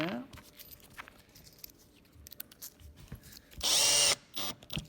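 A power drill drives 5x50 screws into a plywood skate ledge, or slappy box, in a short loud burst late on, with a second brief whir after it, over quiet workshop handling noise.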